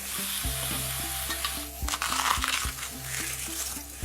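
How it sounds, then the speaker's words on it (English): Leeks searing in a hot pan, a close, steady sizzle and crackle with some stirring and scraping running throughout. "robust vegetable, so it can take a really nice sear"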